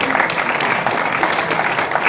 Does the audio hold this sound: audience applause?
yes